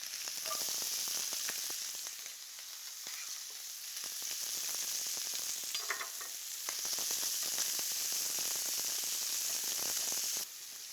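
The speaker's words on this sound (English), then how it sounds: "Crazy how good just sausage browning in the pan smells." Sausage and chopped shallot sizzle steadily in a hot frying pan, a continuous close crackling hiss with occasional stirring scrapes and no talking.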